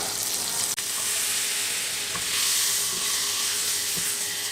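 A small piece of cheese melts in a hot pan before omelette batter goes in, making a steady, close hissing sizzle with a sharp click near the start and no talking.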